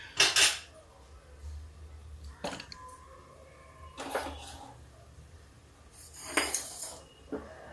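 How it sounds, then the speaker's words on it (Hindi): Dry moong dal lentils poured into a pressure cooker in a home kitchen, with several short bursts of rattling and clinking spaced a second or more apart, moderately close, with no talk. "ये इसमें मूंग की दाल डालते हैं"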